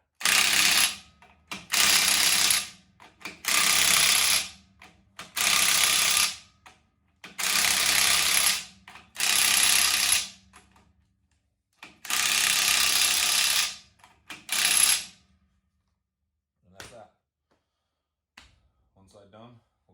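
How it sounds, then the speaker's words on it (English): A torque wrench ratchets while tightening bolts on a Detroit Diesel Loadstar truck, with about seven loud, steady clicking bursts separated by brief pauses, close to the microphone. "I'm definitely using the torque wrench on these"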